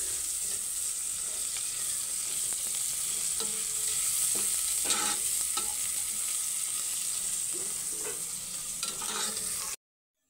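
Garlic and onion sauté in a hot pan for chicken tinola, a steady close sizzle with occasional scrapes and stirring clatter throughout, no talking.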